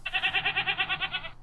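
A Minecraft goat gives a single short, wavering bleat, close and clear with a rapid pulsing tremble.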